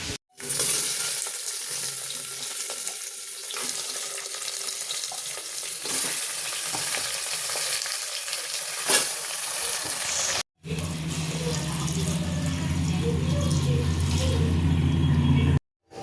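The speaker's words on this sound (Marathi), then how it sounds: "ह्याच्यात हळद आणि मीठ टाकलेलं ह्याला फक्त फोडणी द्यायची आहे" Hot oil tempering sizzles over a whole roasted chicken seasoned with turmeric and salt, a loud continuous frying hiss with a brief break before it resumes more strongly with stirring.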